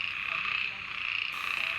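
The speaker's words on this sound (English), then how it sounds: "the frogs had taken over from the cicadas for the rest of the night" Frogs croak in a dense, continuous chorus at a rainforest pond in Goa during the monsoon at night, a steady high-pitched trill with no pauses.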